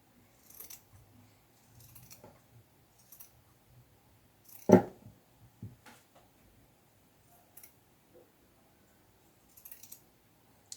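Scissors snipping through fabric along a marked line while sewing a Christmas reindeer doll, a few soft, sparse clicks with one sharper close cut in a quiet room.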